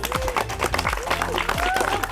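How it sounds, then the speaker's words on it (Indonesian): Students in a junior high classroom clap together after group work on orchid cultivation, a loose rattle of hands mixed with overlapping young voices and chatter. "Tepuk tangan untuk kita semua."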